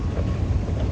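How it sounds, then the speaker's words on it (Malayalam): A train at a Dubai metro station gives a steady, loud, low rumble with a faint rhythmic rattle, heard briefly with no talking. "മെട്രോ സ്റ്റേഷനിലെത്തി ഗൈസ്."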